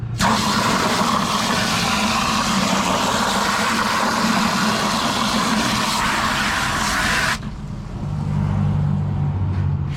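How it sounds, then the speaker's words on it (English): Steady, dense traffic roar from a busy road runs loud and continuous, then drops suddenly near the end to a quieter low hum. "Sorry about the traffic noise, it's pretty busy today."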